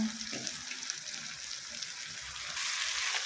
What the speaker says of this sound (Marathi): थोडंसं टोमॅटो परतू द्यायचं एक दोन मिनिट